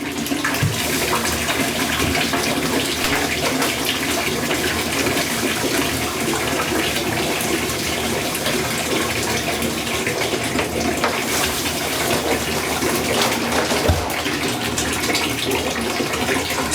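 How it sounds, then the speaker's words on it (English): Tap water gushes steadily into a fermenting container being filled to 25 litres, a loud, unbroken rushing and splashing that holds at the same level throughout. "I'm just going to wait for that to fill up now to 25 litres."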